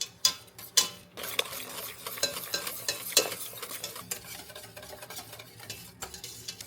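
Heavy cream whisked by hand in a bowl, a steady rapid scraping and ticking of the whisk against the bowl with a few sharper clinks, close and alone without talk.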